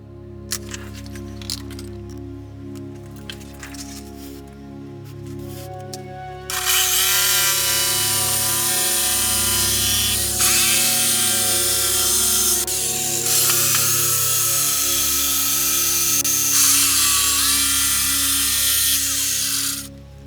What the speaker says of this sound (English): I'm just going to show what it looks like cutting the 24 by 24 inch shelf